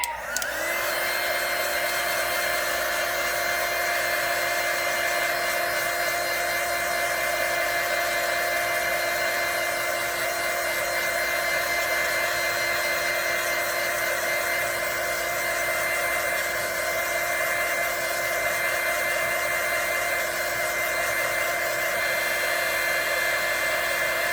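A hair dryer blows on fresh watercolor paint, a loud, steady whine and rush of air that runs unbroken for the whole stretch.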